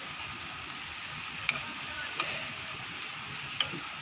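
Tondakai (ivy gourd) fry sizzles steadily in a pan, with a constant frying hiss and a few sharp clicks of stirring or utensil contact.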